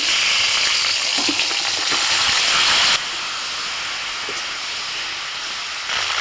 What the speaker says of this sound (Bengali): এবার আলু আর সিম দিয়ে দিচ্ছি